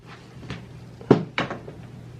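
A pet gate being opened indoors to let kittens out, with a few soft knocks and then two sharper latch-and-swing clunks close by.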